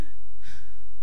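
A person imitates a deer's panting breath with one quick, close, breathy gasp.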